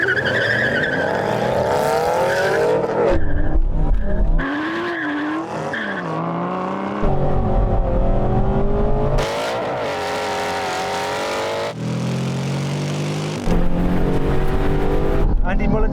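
Race cars in a racing video game roar and rev, with skidding tire squeals and sharp engine pitch sweeps, loud and up close, cutting in and out in bursts.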